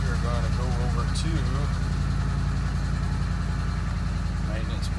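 A Ford 7.3-liter Godzilla gas V8 idles steadily and loudly nearby in an open engine bay, with a constant low rumble running throughout while someone talks over it.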